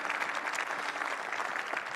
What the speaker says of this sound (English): we can appreciate them with our applause